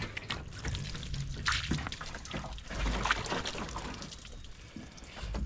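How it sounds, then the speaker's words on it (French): Water splashes and pours over a black locust log on a sawmill as it is rinsed, a busy, close, continuous wash of sloshing and dribbling with no voices. "Splash time."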